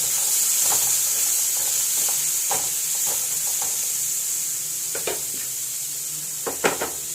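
Onions sizzle steadily in a hot pan in a home kitchen, a constant frying hiss broken by a few soft scrapes and utensil clicks near the end.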